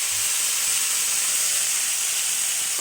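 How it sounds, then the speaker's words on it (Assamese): Bitter gourd (karela) frying in a pan, a steady dense hiss and sizzle of hot oil that stays even and close throughout with no talk. "এতিয়া কেৰেলা ফ্ৰাই কৰিম।"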